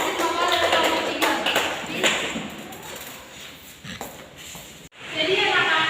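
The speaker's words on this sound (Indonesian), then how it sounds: "kita berikan aplaus atas hasil makalah dari kelompok 3" A classroom applauds after group 3's presentation with a burst of scattered clapping and a few thumps and shuffles, fading out before a short pause and more noise resumes.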